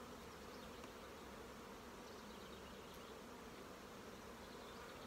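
Honeybees swarm around their beehives in a dense, continuous buzzing drone that holds a steady level from start to finish, with no voices.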